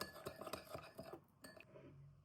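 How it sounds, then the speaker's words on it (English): A spoon clinks and scrapes against a bowl in quick, repeated strokes while stirring broth powder into hot water, then the clinking eases off. "Stir it until the powder dissolved."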